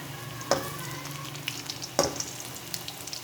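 Potato pakoras in gram flour batter frying in hot oil, a soft continuous sizzle with two sharp clinks of a utensil against the pan and light stirring, no talk.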